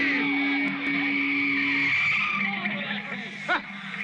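A car skids and squeals onto a field as a sound effect in an old radio drama, a sustained tire screech with an engine beneath, while voices shout over it.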